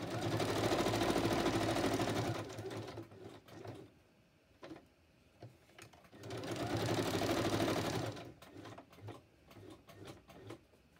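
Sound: sewing machine straight stitching paper

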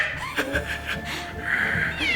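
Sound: cat meowing

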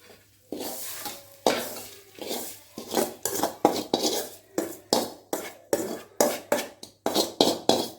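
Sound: scraping sautéed onions and tomatoes out of the pan

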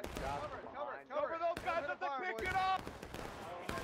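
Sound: musket gunfire in video game War of Rights

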